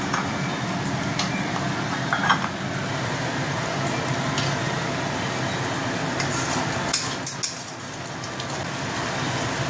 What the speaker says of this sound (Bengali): ভালো করে মশলাটাকে আবার কষিয়ে নেব